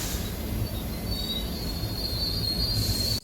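A long Darjeeling Mail passenger train rolls around a curve, heard from the general coach just behind the engine: a steady, loud rumble of wheels on rails with a thin, high squeal of flanges running through it, continuous and with no voices.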